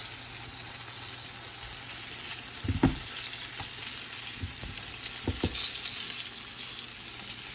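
White onions fry in hot bacon grease with a steady, dense sizzle. A few soft stirring scrapes rise briefly above the constant hiss.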